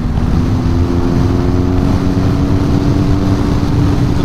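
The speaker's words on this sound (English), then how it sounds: "if I give that a little bit of a twist, it jumps. There you go, it leaps forward." A BMW R1250GS motorcycle engine accelerating under throttle, with a loud, steady engine drone mixed with heavy wind rush throughout.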